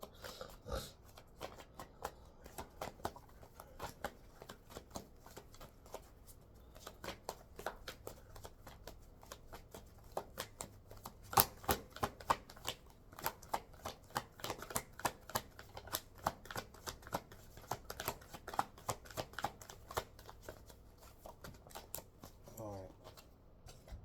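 A deck of affirmation cards being shuffled, giving a steady run of quick papery riffles and flicks that continues near and fairly quiet for the whole stretch, with a voice speaking faintly at times.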